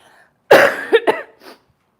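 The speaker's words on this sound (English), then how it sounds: "I need to cough 1 second" One harsh cough up close, followed by a couple of shorter rough bursts and a faint trailing breath.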